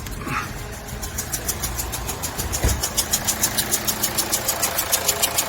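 A Kia Grand Carnival engine idles up close with a steady rhythmic ticking pulse and a faint high hiss running over it from a leaking injector washer.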